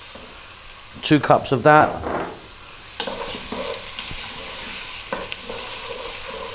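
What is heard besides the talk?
lentils being added and stirred into a hot pot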